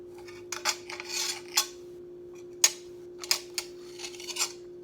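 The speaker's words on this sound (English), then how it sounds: "My last step is to cut the sandwich. I'm going to use my knife and I'm going to hold it and I'm going to cut." A knife slicing through a peanut butter and jelly sandwich, giving a few short, soft scraping and tapping strokes with gaps between them, close and quiet, with no talking.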